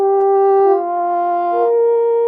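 A slow, sustained melodic line from a somber, reharmonized version of a Star Wars: The Acolyte score motif, with soft held tones gliding between notes, steady and fairly loud, with no voices.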